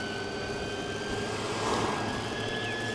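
Vespa Elettrica electric scooter motor whining steadily while riding, a thin high-pitched tone over constant wind and road rush, fairly faint, with no voices.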